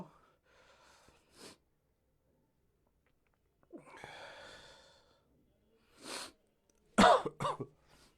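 A person with a cold coughs several times, short hoarse bursts close to the microphone with a longer breathy throat sound between them and gaps of quiet.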